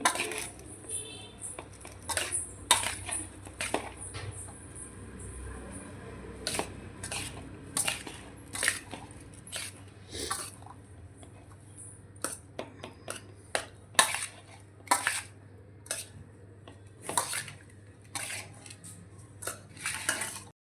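Rice being mixed by hand with oil, salt and raw mango in a vessel for mango pulihora, giving a steady run of soft scraping and clinking contacts against the pot, close and moderately loud, with no talk.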